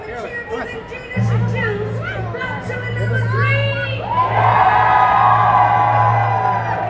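A large, dense crowd cheers, whoops and shouts at Disney's Hollywood Studios, children's shrieks rising above the din and a low steady hum underneath, growing louder in the second half.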